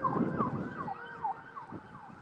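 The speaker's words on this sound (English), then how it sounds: "Those ambulance is going to get real loud." Ambulance siren on a Los Angeles street in Hollywood, wailing in repeated rising and falling sweeps over traffic noise, moderately loud and fairly close, no talking.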